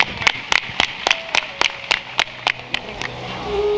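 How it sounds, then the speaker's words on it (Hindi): At a religious katha gathering, a crowd claps in slow, even unison, about a dozen sharp rhythmic claps at close range. "एक बार जोरदार तालियां जो है।"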